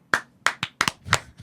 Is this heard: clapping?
yes